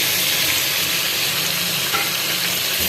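Potato egg curry with spices being stirred in a pan, a loud continuous hiss of frying oil with faint scraping underneath, close and steady with no talking.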